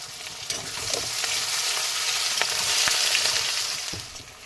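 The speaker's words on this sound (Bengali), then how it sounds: "মশলাটা একদম কষিয়ে নেবো একবারে" Spice masala fries and is stirred in a pan alongside onions for a home-cooked fish meal, a steady crackling sizzle broken by soft scraping knocks of the spoon, fairly close and with no talking.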